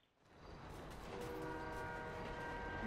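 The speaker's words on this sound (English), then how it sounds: "the train's coming!" A train in the video game GTA 5 approaches, its rumble swelling steadily louder with a sustained horn tone riding over the rolling noise.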